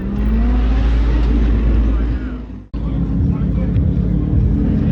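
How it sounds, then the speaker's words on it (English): Lamborghini Huracan, one of them orange with orange-rimmed wheels, rolling out at a car collection event; a loud, steady engine rumble with deep low-end drone, briefly cutting out midway before resuming just as strong. "You got an orange Huracan rolling out as well"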